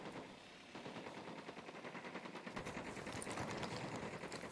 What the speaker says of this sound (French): parce que l'Unidad, il me tire dessus